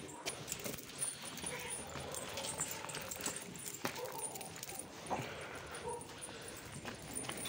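Dogs out on a walk, with faint scattered whimpers and light yips, jangling and footsteps amid steady outdoor background noise; a voice talks quietly now and then.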